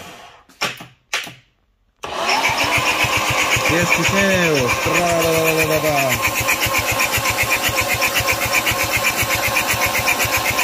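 A manual Audi S3 8P with a newly fitted engine of over 400 hp cranks and fires after a few brief spoken words, then settles into a loud, close, rapid, rhythmic running beat that continues steadily.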